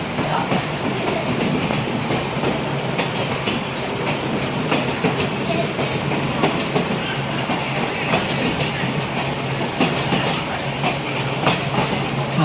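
A Port Stanley scenic tour train rolls past continuously, wheels clattering rhythmically on the rails with a steady rumbling roar throughout.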